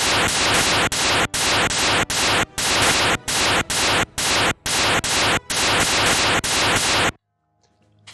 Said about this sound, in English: if I go ahead and cast some magic